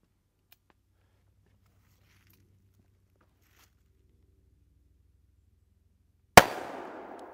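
A single .460 Smith & Wesson revolver shot firing a 260 grain bullet, sharp, loud and close, cutting in after several seconds of near silence and trailing into a brief ringing decay outdoors.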